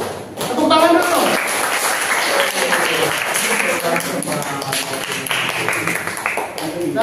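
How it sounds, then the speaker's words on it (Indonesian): Applause from a classroom of students in an introductory philosophy lesson, a steady round of clapping lasting several seconds with children's voices and chatter mixed in. "Tepuk tangan dulu."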